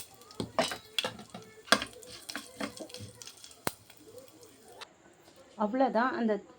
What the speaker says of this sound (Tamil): அவ்வளோதான் அந்த தாளிப்பை இதில் கொட்டியாச்சு